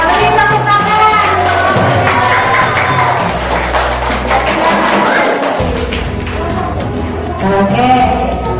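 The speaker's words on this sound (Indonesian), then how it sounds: "Ya, mari tepuk tangan." An audience in a classroom claps after a group presentation, a steady patter of many hands at moderate loudness that tapers off and then swells briefly again near the end.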